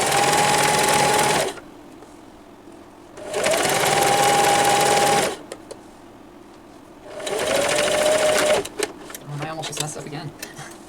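A sewing machine stitching purse lining runs in three loud, steady bursts of a few seconds each, separated by pauses, with a person talking in between.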